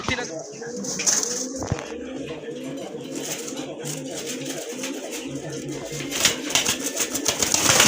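Pigeons coo steadily in a fancy-pigeon sale yard featuring large Rajgolla pigeons and red Danish birds, a dense overlapping chorus of low throaty calls running throughout amid general flock noise.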